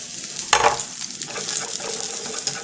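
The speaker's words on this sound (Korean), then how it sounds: "마늘 먼저 볶으시고 불은 너무 세지 않게 마늘이 어느 정도 향이 날 정도로만 해서" Garlic stir-frying over moderate heat in a pan for grilled sirloin and vegetables: a steady close sizzle with a brief louder burst of stirring early on, no voices.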